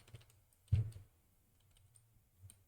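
Computer keyboard clicks while a search term is typed into an application's search bar, with soft, close key taps and one firmer keystroke in an otherwise quiet room.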